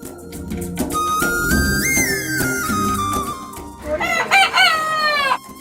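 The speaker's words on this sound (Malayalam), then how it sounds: "തൊലിയും മാംസവും കറുപ്പ് നിറത്തിൽ കാണപ്പെടുന്ന ചൈന ഒറിജിൻ ആയിട്ടുള്ള കുറച്ച് കോഴികളാണ് കേട്ടോ ഇത്" Loud, close rooster crowing rings out repeatedly while black-skinned chickens of Chinese origin cluck and squawk around it in a busy chorus on a farm.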